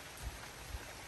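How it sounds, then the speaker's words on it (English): Steady, soft hiss of rain falling nearby, a continuous wash of fine drops with a couple of faint low thumps, no voices. "Keep going rain,"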